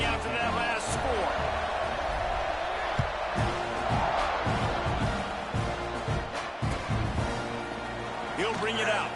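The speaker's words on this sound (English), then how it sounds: "This crowd is buzzing after that last score." Football stadium crowd buzzing after a 1-yard touchdown plunge capped a 77-yard drive, a steady dense roar of voices with scattered claps and thumps, continuous and fairly loud throughout.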